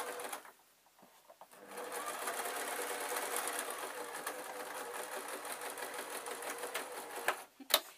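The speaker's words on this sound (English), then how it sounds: "I'm going to sew along the edges here just to make the little pouch" Home sewing machine stitching along the edges of fabric for a small tissue packet cover, a steady fast mechanical whir running for several seconds after a brief start and a few stops, close and fairly quiet.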